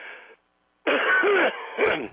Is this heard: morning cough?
yes